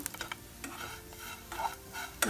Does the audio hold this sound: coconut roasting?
yes